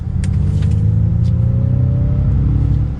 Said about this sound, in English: So you can hear kind of some engine noise.